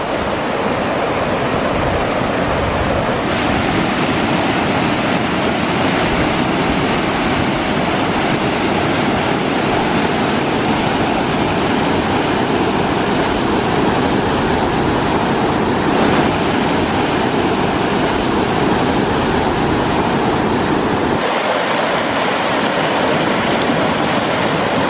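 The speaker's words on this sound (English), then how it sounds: "I can hear the water tumbling. Perhaps there's some sort of weir." Water tumbles over a weir in Cornwall, a loud, continuous rushing roar with no breaks, steady and close throughout.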